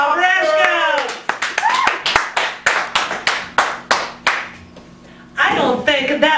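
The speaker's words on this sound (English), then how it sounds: "I don't think that was enough applause for the bouncer." Crowd applause for Bob Rashko at a poetry open mic in a cafe gallery, loud with distinct rhythmic clap bursts, sitting between stretches of a speaking voice at the start and end.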